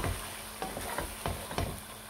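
Chickpea korma cooks in a pan, a constant close sizzle broken by several soft scraping stirs spaced across the moment, with no talking.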